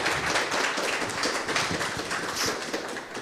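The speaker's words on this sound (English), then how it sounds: "give her a round of applause" Scattered clapping from an audience at a live church album launch event, a fairly faint, uneven patter of hands that stays steady for a few seconds before tapering off.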